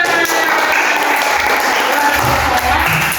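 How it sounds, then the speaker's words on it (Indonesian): Schoolchildren clapping together in a classroom during a lesson, a loud, close burst of steady applause lasting a few seconds, with voices faintly mixed in. "tepuk tangan untuk kita semua"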